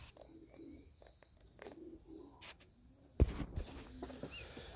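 Young racing pigeons out of the loft for the first time, giving soft low coos and faint chirps at a distance, with a louder bump and rustle near the end.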